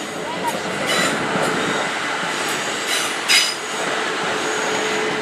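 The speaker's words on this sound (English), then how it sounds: "So that's a train, that's a train," A train rumbles through Clapham Junction station with continuous rolling wheel noise and a few squeals and clatters along the track, loud and steady throughout.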